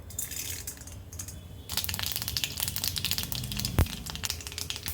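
Mustard seeds and urad dal go into hot oil in a kadai, setting off a crackling sizzle that jumps louder partway through, with scattered sharp pops and one loud clank near the end.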